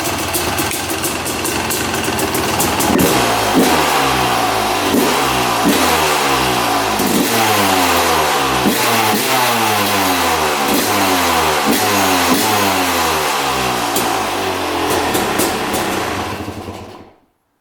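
A cheap used dirt bike's engine running close and loud, cycling through repeated throttle blips that rise and fall in a steady revving rhythm before cutting off abruptly.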